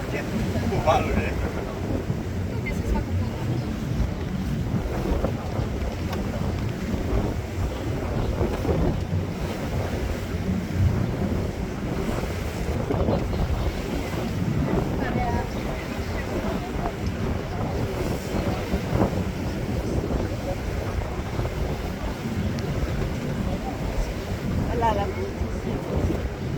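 Sea waves and wind buffet a tour boat off Capri, making a continuous low rushing roar with gusty wind noise on the microphone, while people talk on board.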